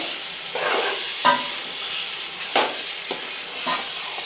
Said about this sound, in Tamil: பாருங்க போட்ட கறி நல்லா வதங்கி வருது